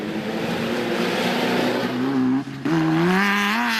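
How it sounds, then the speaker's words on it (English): N1 4x4 Ford Ranger racing in an off-road rally, engine roaring loudly at high revs with a brief gear-change dip before climbing again, close by. "The N1 4x4 Ford Ranger was chasing after the Class E leaders and had KZN crew Manfred Schroeder and Gavin"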